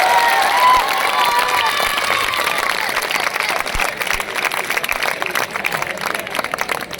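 Audience applause at a Hindi-language program, a dense steady clatter of many hands with some crowd noise, loud and continuous throughout, fading slightly toward the end.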